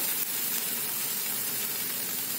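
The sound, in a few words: ragi flour crepe (ghavan) roasting on a hot pan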